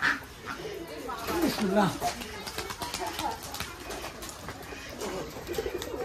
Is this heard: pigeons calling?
yes